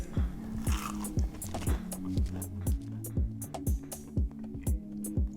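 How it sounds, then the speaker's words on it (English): Sharp crisp crunches of biting Quorn crispy nuggets repeat in a steady rhythm of bites and chewing, close up and loud, with faint background noise between them. "First thing I want you to do is hear the crunch here."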